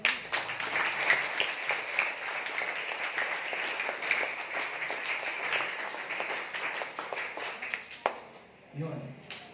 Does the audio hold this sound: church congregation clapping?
yes